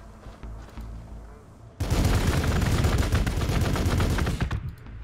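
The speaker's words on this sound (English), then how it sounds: "You move up to here and shoot them." Gunfire in the Warhammer 40,000: Gladius – Relics of War strategy game, a sudden dense burst of rapid shots after a quieter stretch, loud and sustained for about three seconds before cutting off.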